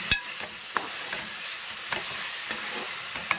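A ridge gourd curry is stirred in a sizzling pan, with a steady frying hiss and a spoon scraping the pan in regular strokes about every half second, close and moderately loud with no talk.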